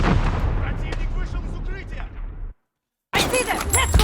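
Rocket grenade blasts in a Modern Warfare first-person shooter, dense roaring gunfire and explosions filling the mix, a sudden cut to silence, then another loud burst of combat noise with voices shouting over it.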